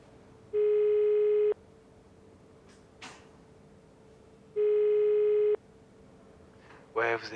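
Two long electronic telephone beeps sound alone, each about a second and evenly spaced, like the tone after a French voicemail greeting, with a brief clatter between them and a short snatch of voice at the end.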